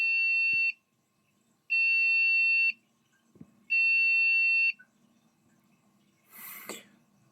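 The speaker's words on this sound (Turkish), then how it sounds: "bip sesleri yeniden geldi." Three long, loud electronic beep tones from a newly built budget AMD desktop PC's motherboard error signal, each about a second, separated by pauses, with a faint click and a brief hiss afterward.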